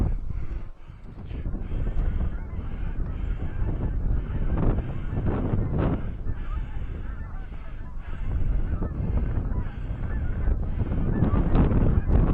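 Geese honk repeatedly, some near and some farther off, during a goose hunt on the Snake River. Gusty wind buffets the microphone throughout.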